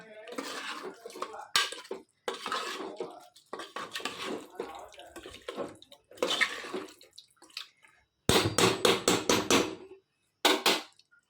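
Chicken being stirred in a pot with turmeric, giving wet, thick scraping and clattering strokes in uneven bursts separated by pauses, close and fairly loud.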